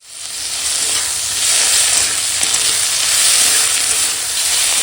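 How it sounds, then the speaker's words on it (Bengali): Vegetables fry in a hot pan in the middle of cooking a lentil curry with tart hog plum and egg omelette, giving a steady loud sizzle and hiss that lasts throughout without any talk. "এখন এই সবজিটা ভেজে নেব"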